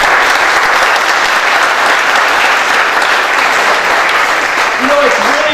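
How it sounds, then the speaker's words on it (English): Loud, steady applause from a town crowd honoring guests at a Springfield event, a dense wash of clapping filling the whole stretch with a few cheers rising near the end. "So everybody give a round of applause."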